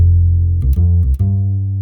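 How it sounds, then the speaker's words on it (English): Acoustic bass 1 patch on a Roland FA-06/08 synthesizer, transposed down one octave, playing a deep sustained note, then a few quick plucked notes before settling on a held low tone, clear and alone. "that's the acoustic bass 1, and that's on MIDI part 5"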